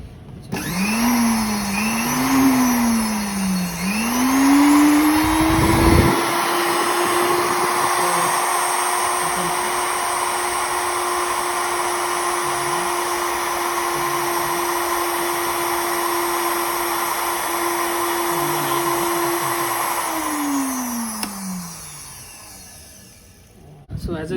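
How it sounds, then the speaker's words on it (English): An AC sewing machine motor, run on its own for a power measurement, whines up in pitch, wavers briefly, then holds a steady loud hum for about fifteen seconds before winding down as it is switched off. "This is basically swing machine motor, AC swing machine motor."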